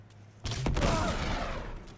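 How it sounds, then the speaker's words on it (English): Gunfire in Uncharted 2 erupts as a sudden loud burst of shots, then a dense, sustained rattle of overlapping fire with a sharp crack early on. "Definitely shot some bullets in there."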